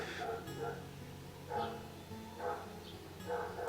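A dog barks in short bursts about once a second, four or so sharp barks at moderate distance over a low background hum.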